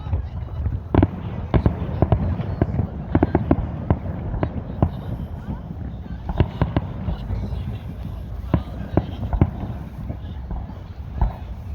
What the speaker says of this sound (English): Happy Victoria Day